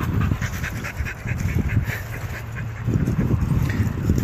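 A small female boxer dog pants rapidly and rhythmically up close, a steady string of breathy huffs that goes on throughout with no talking.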